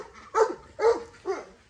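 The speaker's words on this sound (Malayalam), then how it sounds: "ഇവിടെ നമ്മുടെ കോഴികളും ഡോഗ്സും ഒക്കെ നമ്മുടെ വരവിനായി കാത്തു നിൽക്കാണ്." Dogs at a rural home with chickens give three distinct, evenly spaced barks at moderate distance, with quiet background between them.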